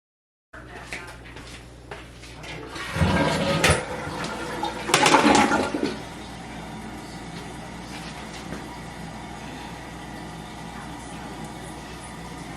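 A newly installed toilet flushes in a loud, surging burst of gushing water, followed by a quieter, steady hiss of the tank refilling that trails off.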